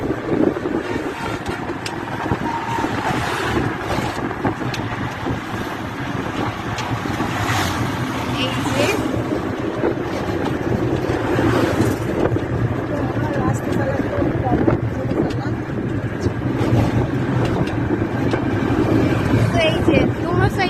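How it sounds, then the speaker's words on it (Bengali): Strong wind roars steadily while crossing a river bridge near Barishal, a loud, continuous broadband rush with gusty swells throughout, and voices talk over it at times. "অনেক বাতাস।"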